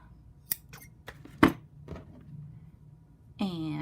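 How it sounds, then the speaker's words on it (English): Scissors snipping through crochet yarn beside knit fabric, a few sharp, close cuts spread over a few seconds, with a voice starting up at the end. "Then you just cut your yarn,"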